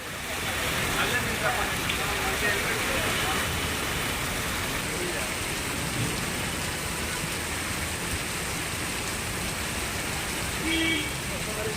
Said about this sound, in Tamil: சென்னை தாம்பரம் சுற்றுவட்டார பகுதிகளில் கனமழை கொட்டி தீர்த்தது.